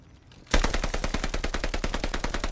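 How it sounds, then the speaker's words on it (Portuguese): Rapid automatic gunfire in the Call of Duty Vanguard video game on Xbox One, bursting in loud and close after a quiet half second, then a steady rattling stream of shots with no talk. "Eu tenho que atirar nessa merda?"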